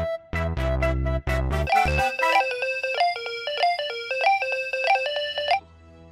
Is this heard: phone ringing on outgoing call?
yes